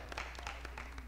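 A church congregation claps hands in worship during a Bible study service, a steady patter of many hands, faint and diffuse, with a voice in the background.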